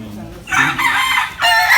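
A rooster crows loudly and close by in a backyard, one long call followed by the start of another, with faint background murmur between.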